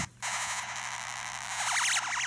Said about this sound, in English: Very interesting little ribbon synths that generate a lot of sound.